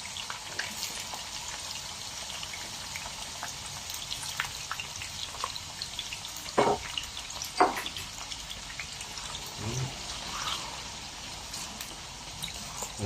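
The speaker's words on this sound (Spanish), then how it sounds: "Vamos a freír nuestras papas" Potatoes frying in hot oil for a Peruvian home recipe, a steady soft sizzle and crackle throughout with a few louder pops and clatters, no voices.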